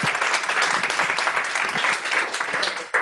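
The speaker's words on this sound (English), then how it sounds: "clap, applause." A meetup audience breaks into applause, a dense burst of many hands clapping at close range that runs evenly before cutting off abruptly.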